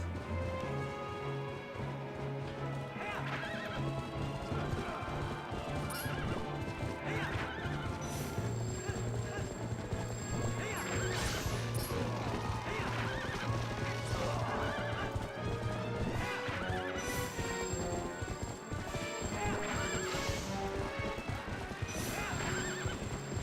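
Horse neighing and whinnying with hoofbeats clip-clopping during a chase in Zelda: Twilight Princess, the calls rising repeatedly over a steady bed of game music and action noise.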